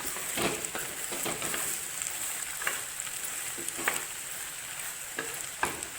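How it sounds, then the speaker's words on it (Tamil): Chopped ridge gourd sautés in a hot pan with a constant soft sizzle, punctuated by a series of light scraping stirs at irregular intervals, close and unaccompanied by talk. "ஒரு கால் கிலோ பீக்கங்காவை கட் பண்ணி போட்டுக்கேன் இதையும் ஒரு ரெண்டு நிமிஷம் நல்லா வதக்குங்க"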